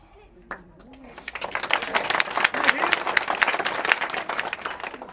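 A crowd at an outdoor political gathering breaks into applause, building from scattered claps into dense, sustained clapping, while a voice carries over it.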